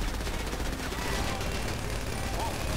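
Bursts of automatic gunfire ring out in a video game as shots are fired at a gas station, a dense crackling fusillade running throughout at moderate loudness.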